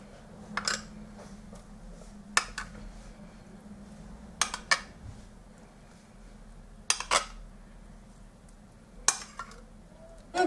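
Utensils clink against a bowl while Caesar salad is stirred together with cream: a handful of sharp, bright metallic taps spaced a couple of seconds apart over a quiet room background, with no talking.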